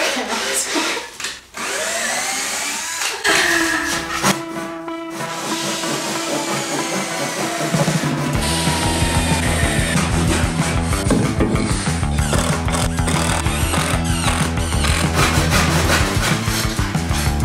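An oscillating multi-tool grinds and buzzes against the underside of a butcher block countertop, scraping off glue and clamping blocks; a loud, steady whine with rising and falling tones and rough wooden rasping throughout.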